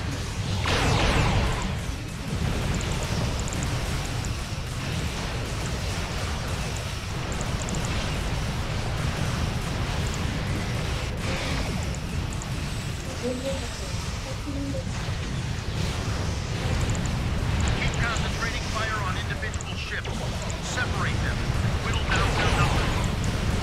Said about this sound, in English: those new explosion animations are just great